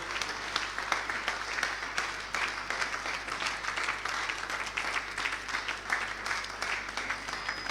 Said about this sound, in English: Can somebody give God a mighty hand clap?